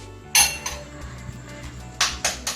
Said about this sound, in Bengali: তারপরে ডিম দিচ্ছি